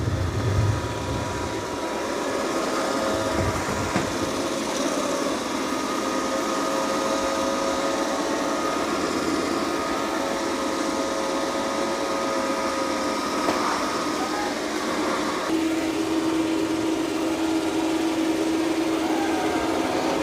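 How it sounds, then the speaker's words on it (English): A Dreame L40 Ultra robot vacuum runs a continuous, even suction whir while mopping and vacuuming a floor, with a steady tonal hum joining near the end. "it's mopping and vacuuming at the same time."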